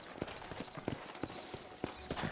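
Horse hooves clip-clop at an easy, uneven walking pace in the Western video game Red Dead Redemption, close and fairly quiet, with no talk.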